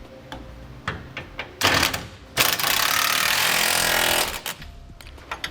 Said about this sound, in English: now we'll tighten down all of our hardware